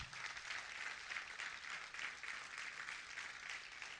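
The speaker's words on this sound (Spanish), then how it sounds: "Denle un aplauso a Dios en esta mañana." A Sunday morning church congregation claps together in a sustained, even round of applause, slightly rhythmic and fairly distant, with no talking over it.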